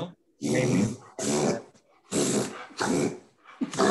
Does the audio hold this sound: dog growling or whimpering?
yes